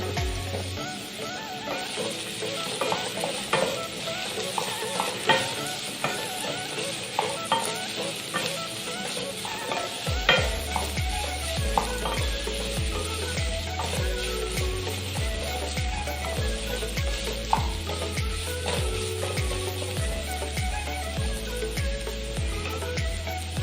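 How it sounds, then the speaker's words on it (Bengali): Capsicum and chilli fry in a pan for egg pasta, a continuous close sizzle broken by frequent stirring scrapes and clicks, with a low rhythmic thump underneath. "এবারে আমরা যেটা দেব ক্যাপসিকাম এবং লঙ্কা।"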